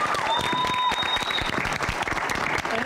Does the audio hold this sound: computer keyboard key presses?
no